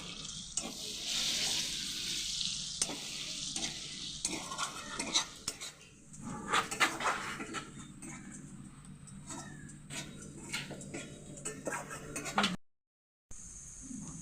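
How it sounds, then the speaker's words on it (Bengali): Onion, ginger and garlic paste frying with whole spices in oil for prawn malai curry, giving a loud hiss at first and then softer sizzling broken by clinking utensil scrapes and stirs, ending abruptly. "এবার একে একে সব বাটাগুলো দিয়ে দিচ্ছি পেঁয়াজ বাটা আদা বাটা রসুন বাটা"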